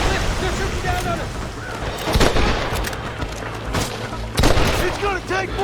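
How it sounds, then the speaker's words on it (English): Gunfire in Red Dead Redemption, repeated sharp shots and booms scattered through a busy fight, with people shouting in between. "They're shooting down on us."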